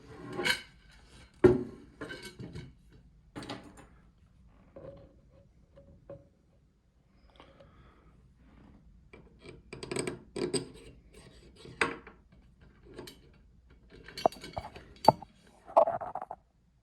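Metal spokes being laced into shiny gold DID Dirt Star ST-X rims for a 2000 Yamaha YZ250 dirt bike wheel: scattered close metallic clinks and short scraping rubs, separated by quiet gaps.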